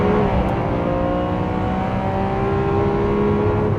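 A Lamborghini Aventador SV's V12 engine roars loud and steady throughout, a sustained high-revving drone with no pauses.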